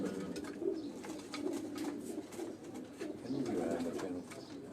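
Caged Sialkoti rooftop pigeons give steady, throaty coos in overlapping waves, near and moderately loud, with brief speech mixed in.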